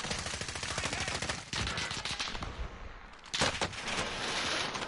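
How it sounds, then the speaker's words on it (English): Rapid automatic gunfire from the Call of Duty video game, dense bursts crackling almost without pause, loud and close, with a short lull in the middle before firing resumes. "Oh, they're shooting me."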